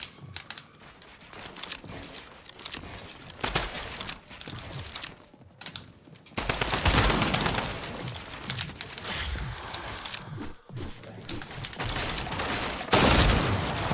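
Shotgun gunfire in the video game Unreal, a fast stream of sharp bursts and booms packed together throughout, loud and dense, with brief pauses between volleys and no voices.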